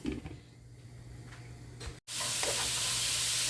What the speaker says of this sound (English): All right, onions are cooking down. Get a little stir. So they don't stick to the pan.